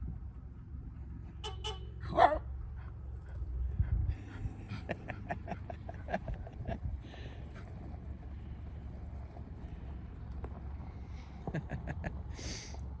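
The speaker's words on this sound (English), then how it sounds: "Bark, bark!" A dog barks in a short scattered series outdoors at a remote off-grid property, the barks fairly faint and spread over a quiet background with a few other distant tones.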